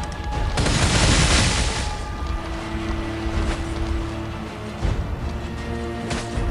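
Gunfire aimed at a boss in the video game Pascal's Wager, heard as a loud, close burst of blasts followed by rumbling game sounds and a few sharper hits.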